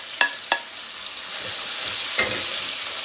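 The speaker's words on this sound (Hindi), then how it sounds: "अब इसमें आयल जो है ना वो हीट अप हो गया है, अब हम इसमें गार्लिक जो काट के रखा था" Chopped garlic, about ten to twelve cloves, hits hot oil in a cooker and sizzles in a steady close frying hiss, with a few sharp utensil clinks and stirring scrapes on top and no voices.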